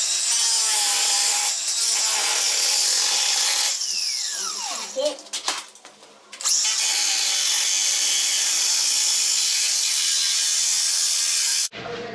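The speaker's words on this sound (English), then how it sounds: "We'll cut this off here, and then we'll cut the aluminum part off as well." Saw cutting the end off a pocket door frame and its aluminum part, a loud, steady rasping drone that dips briefly midway before resuming, with a short gap near the end.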